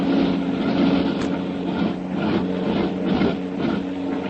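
Plane motors drone steadily as an aircraft flies back toward a lake, a radio drama effect, a continuous rumbling hum with slow swells in loudness and no voices over it.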